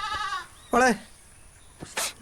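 A young goat bleats a few times, short wavering cries near by, with brief voices between them.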